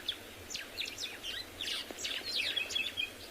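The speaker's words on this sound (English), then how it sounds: "Beautiful sharp notes from the white-browed sparrow weavers." White-browed sparrow weavers sing in sharp, rapid chirping phrases at sunrise on an African safari. The bursts come one after another, faint to moderate and somewhat distant, with no voices over them.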